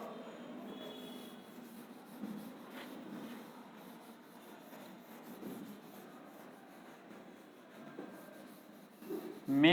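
Equation being written out by hand during a Bangla statistics lecture on moments, skewness and kurtosis: faint, steady scratchy rubbing strokes with no talking, then a brief louder knock right at the end.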